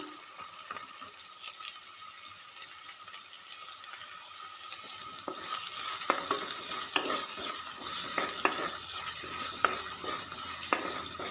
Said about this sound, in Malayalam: എല്ലാം കൂടെ നന്നായിട്ടൊന്ന് ഇളക്കി കൊടുക്കാം. കുറച്ചൊന്ന് വാടി വരട്ടെ ഉള്ളിയൊക്കെ.